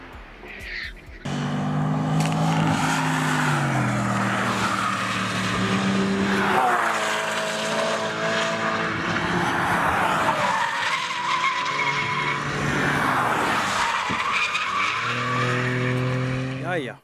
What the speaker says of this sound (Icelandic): nú erum við komin á kvartmílubrautina hérna í Hafnarfirði og við erum með fullt af Porsche-bílum hérna í kringum okkur